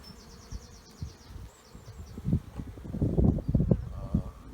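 Honey bees buzz inside an opened hive packed with brood and pollen-filled frames, a close, swelling hum with soft rustling as frames are handled.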